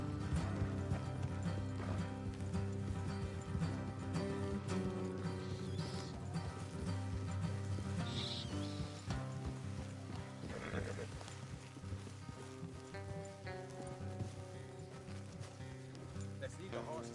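Steady clip-clop of horse hooves trotting in Red Dead Redemption 2, with an occasional whinny, under game music and a voice talking.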